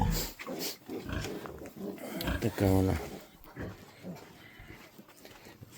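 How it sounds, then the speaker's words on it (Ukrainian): A sow grunts loudly and close during farrowing as piglets are placed under a heat lamp, a deep rasping burst in the middle while someone talks before and after it. "Така в нас буває свиноматка."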